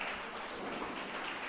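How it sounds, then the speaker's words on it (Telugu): Steady applause from an audience at a youth motivational talk, a dense continuous wash of many hands clapping together throughout, with no speech over it. "చప్పట్లు కొడదాం ఒకసారి గట్టిగా,"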